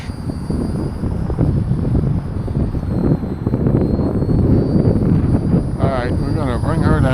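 A small Volantex P51D Mustang RC plane, 400 mm, runs at full throttle on a very windy winter day, a steady loud motor drone blended with heavy wind buffeting on the microphone throughout.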